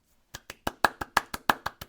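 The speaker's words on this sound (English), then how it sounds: "You're giving yourself a round of applause?" One man claps for himself, about ten sharp, evenly spaced hand claps close by, with no talk over them.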